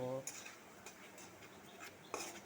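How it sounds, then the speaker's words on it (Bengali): Masala being stirred in a pan for prawn malaikari makes quiet, intermittent scraping strokes over a low sizzle, with a brief voiced sound at the start. "মশলাটাকে ভালো করে কষিয়ে নিচ্ছি"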